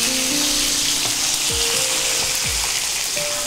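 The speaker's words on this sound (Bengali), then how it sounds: "একটু চাপা দেওয়া থাক, আলুটা ততক্ষণ ভাজা হোক।" Potatoes fry in a pan of hot oil for a tomato fish dish, a loud, steady close sizzle with a few clanks of stirring and no voices.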